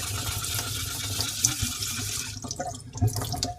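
Wet scrubbing of a worn Atoma 400 diamond plate with water, raising slurry on the hone; a steady hissing wash of gritty scraping runs throughout, close and moderately loud, easing toward the end.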